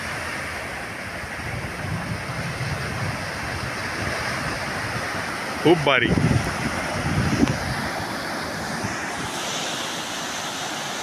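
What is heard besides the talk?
ocean waves on Dubbanshishi beach, Gokarna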